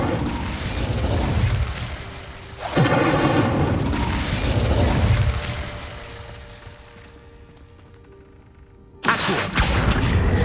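Magical spell effects from Hogwarts Legacy, including the Incendio fire spell: loud whooshing bursts and booming blasts, with one burst near the start, a sharp one a quarter of the way in, a fading hiss, then another sudden burst near the end.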